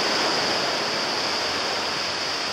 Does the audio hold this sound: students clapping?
no